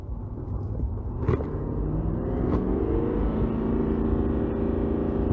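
Ford F-250 Tremor pickup truck engine held near redline, a loud, sustained low roar with a rising tone and a couple of sharp knocks early on.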